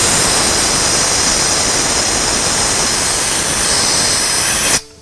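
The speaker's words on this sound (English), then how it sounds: "Engine side, we're just blowing out the lines, making sure that we've got everything clean there." Compressed air blasts loud and continuous through the fuel lines on the engine side of a 2014 Ford Powerstroke, a close steady roar that cuts off abruptly at the end.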